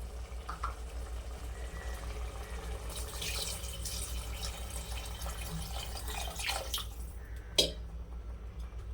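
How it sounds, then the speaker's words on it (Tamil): Water pours and splashes into a cooking pot in uneven bursts, about four cups, with a low background hum and a sharp clink near the end, while making chicken biryani. "இந்த கப்பில் நாலு கப் அளவு நம்ம தண்ணி ஊற்றிக்கலாம்"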